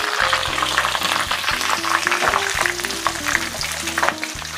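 Kaffir lime leaves with their midribs removed fry in hot oil while being stirred, giving a loud, steady crackling sizzle with dense spattering pops. A low, stepped background tone runs underneath throughout.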